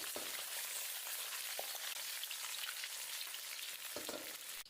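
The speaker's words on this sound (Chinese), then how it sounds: "把鱼头和鱼尾像这样煎一下" Fish head and tail fry in a hot pan with a steady, dense sizzle and a few faint clicks, close up and with no voices.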